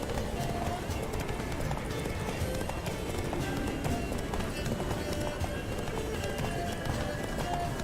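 Geralt's horse Roach gallops in The Witcher 3: Wild Hunt, a dense, continuous clatter of hooves under a steady wash of game sound that runs the whole time at moderate loudness.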